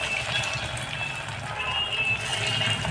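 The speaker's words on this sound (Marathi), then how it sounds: "असं थोडंसं खडबडीतच ही भजी तळून घ्यायची आहे" Potato bhaje fritters frying in hot oil, a continuous bubbling sizzle held steady throughout, with a voice talking over it.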